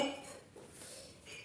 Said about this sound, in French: c'est mon mari qui est en train de ranger de la vaisselle